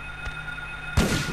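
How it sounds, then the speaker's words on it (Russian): A single shotgun blast in the Silent Hill video game, a sharp close boom arriving about a second in after near-quiet game ambience with a steady hum. "Да ты, как ты из дробовика стреляешь-то?"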